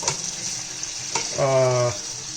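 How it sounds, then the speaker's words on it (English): Tomatoes cooking in a pan are gently mixed, giving a soft sizzle with a couple of brief scraping strokes, while a short tonal hum rises briefly in the middle. "Just going to give it a gentle mix"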